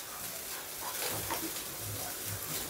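Cauliflower frying in oil in a pan makes a quiet, continuous hiss with soft bursts of sizzle and no break in the sound.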